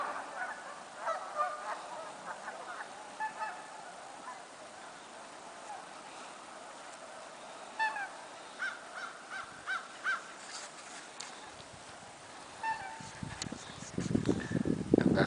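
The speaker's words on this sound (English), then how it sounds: "Canada geese in the foreground." Canada geese honk close by on a wintry day after a blizzard, bursts of raucous calls coming in irregular clusters, with louder rustling and handling noise near the end.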